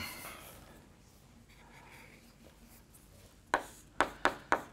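A board eraser wipes writing off a board during a quantum mechanics lecture, heard as four quick, close scrubbing strokes at the end after a stretch of quiet room tone.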